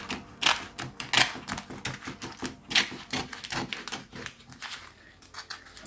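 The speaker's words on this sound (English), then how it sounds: "I'm just going to have a crack at cutting this bag here before I stick the book in." Scissors snip through a thin plastic book bag in a quick series of crisp, close crackling cuts, each one a sharp rustling snap at an irregular rhythm, with no talking.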